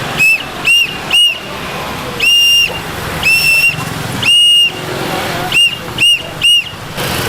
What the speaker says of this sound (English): Now the international distress signal is 3 short toots.